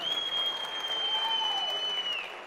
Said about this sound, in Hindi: मैं चाहता हूँ सर के लिए जरूर जोरदार तालियां होनी चाहिए